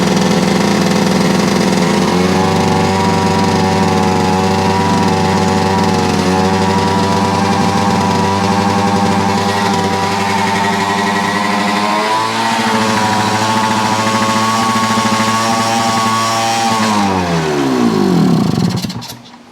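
Yamaha 100 Trailmaster motorcycle engine running rough while clearing excess fuel, a loud close steady drone with a slight rise in revs, then sputtering and dying out near the end.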